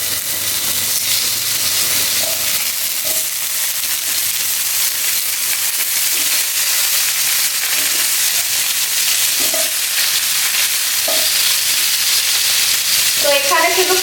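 Potatoes dropped into hot oil for a chicken and egg curry, giving a loud, dense, continuous sizzle close by, with a few faint clinks of stirring.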